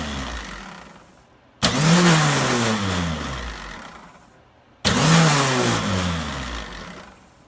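A repaired snow blower electric starter motor, plugged in and tested off the machine, whirs up in two loud separate runs, each starting with an abrupt kick and then a steady spinning whine that slowly winds down.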